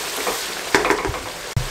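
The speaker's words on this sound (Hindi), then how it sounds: "अच्छे से हिला लें, तेज़ फ्लेम पे 1 मिनट के लिए पकने दें।" Mutton kidney and liver stirred and frying in a pan over a high flame, a steady close sizzle broken by a couple of sharp clanks from the stirring utensil.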